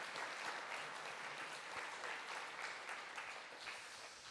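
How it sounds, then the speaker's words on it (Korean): A church congregation applauds the choir, conductor and accompanist at a Sunday afternoon praise service, a steady wash of many hands clapping at moderate distance, fairly quiet, with no talking over it. "우리 또 박수로 격려하면 좋겠습니다"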